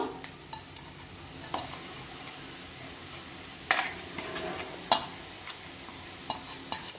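Onions fried with ground garlic chili paste sizzle quietly in a pan while a utensil scrapes and clinks against it in scattered stirring strokes.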